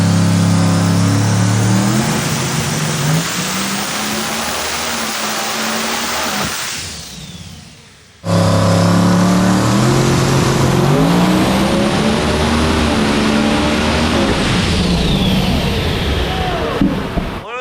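A 5,000-horsepower car on a hub dyno roars loudly and close, its engine note climbing in a long pull, cutting out abruptly, then blasting back for a second sustained full-power run.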